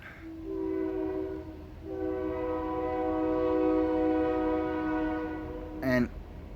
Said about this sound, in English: Oh, that train's loud.